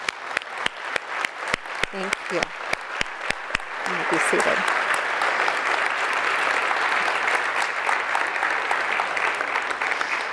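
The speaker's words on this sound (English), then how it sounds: "Please give them a round of applause." A congregation claps for new prayer partners at a ceremony in the Unity Center, San Diego; a few scattered claps first, then full sustained applause swells and continues to the end, with a brief spoken thanks near the start.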